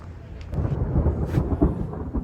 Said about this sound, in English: you heard that thunder?